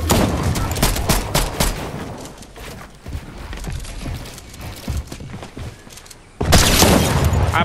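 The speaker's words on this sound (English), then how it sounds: "I shotgunned him." Shotgun blasts and other gunfire erupt in a Fortnite duo match, several sharp, loud shots clustered in bursts at the start and again near the end, surrounded by busy game noise.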